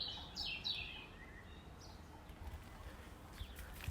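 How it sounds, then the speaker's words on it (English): Faint birds chirp in short bright bursts near the start, then fade into quiet outdoor garden ambience beside a greenhouse on a sunny day, with a few distant calls. "Hear the birds singing."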